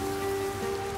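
Steady rain falls as an even, continuous patter, with a persistent low hum running underneath and no voices.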